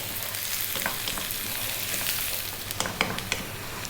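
Sliced onion frying with spiced potatoes in a pan for an Indian aloo fry, a steady close sizzle with scattered crackles and a few scraping stirs toward the end.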